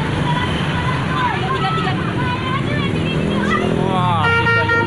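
Several PO Haryanto buses, including one nicknamed Black Bus, sound melodic telolet horns, rising and falling tonal toots over a roadside crowd's chatter and engine rumble, growing louder near the end.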